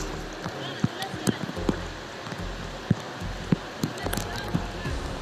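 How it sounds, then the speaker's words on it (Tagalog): Steady rain patters on a surface with sharp drips and thuds scattered through it, and a few voices murmur faintly underneath. "Ang lakas ng ulan"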